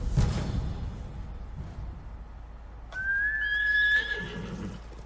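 A horse whinnies in the video game Ghost of Tsushima, a single loud, clear neigh that rises and trails off, following a brief rush of hoofbeat-like noise.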